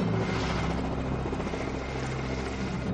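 A helicopter drones close and loud, its rotor thumping in a steady rhythm over a constant engine whine that fills the whole stretch.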